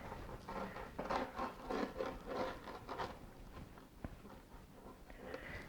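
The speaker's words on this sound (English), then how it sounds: "This is a little pizza cutter. It's a round wheel and you just cut it" A round-wheeled pizza cutter rolls through a sausage and mushroom pizza, giving several soft, rasping strokes close up in quick succession, each with a gritty scrape.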